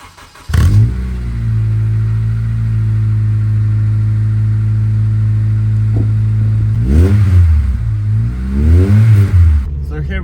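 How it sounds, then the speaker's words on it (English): A Honda Civic EP3 with a broken shock absorber mount starts up and holds a steady, loud engine tone, then revs rise and fall in several swells near the end as it pulls away. "And now let's take it for a drive."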